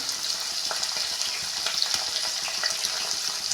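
Cauliflower fries in hot oil for a halwai-style gobi sabzi, giving a constant, bright, hissing sizzle with small crackles scattered through it, fairly soft and steady, with no voices.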